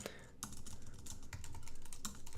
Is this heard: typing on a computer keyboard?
yes